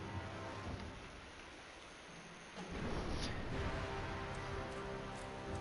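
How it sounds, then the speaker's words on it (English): Thunderstorm in the video game Black Myth: Wukong, with steady rain and rumbling thunder that swells midway and stays loud to the end, with no speech. "I can hear the lightning up in the sky."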